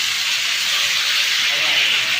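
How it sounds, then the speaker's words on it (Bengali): Water splashed into spices frying in a pan for a rohu fish curry with potato, brinjal and pointed gourd gives a steady, loud, broadband hiss of steam that holds even for a couple of seconds, with no voices. "মশলাটা না পুড়ে দেয় 1 চামচ পানি দিয়ে দেবো।"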